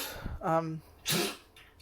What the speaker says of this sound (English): Or she's just having a coughing fit.